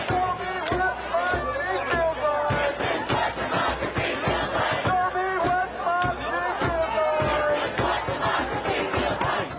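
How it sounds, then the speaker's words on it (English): A dense crowd celebrating near the White House after the 2020 US election cheers, shouts and chants loudly and continuously, with overlapping voices rising in waves close by. "around the White House where we are absolutely full of people celebrating"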